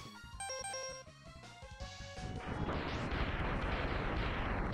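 Sniper gunshot in a video game, a loud boom with a long rumbling roll that breaks over a musical game soundtrack and keeps rumbling to the end.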